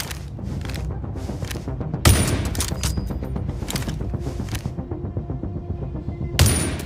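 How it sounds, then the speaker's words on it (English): Sniper rifle fire in The Division Resurgence, a mobile shooter, during a marksmanship training range: two heavy booming shots several seconds apart, between them a steady patter of distant gunfire. "Let's see how you perform with a sniper rifle."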